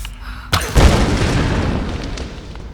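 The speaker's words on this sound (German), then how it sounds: "Guter Sprengpfeil." An explosive arrow blast in the 2013 Tomb Raider video game: a sharp boom hits, then a heavy, loud low rumble rolls on and slowly fades over the remaining seconds, with no talking.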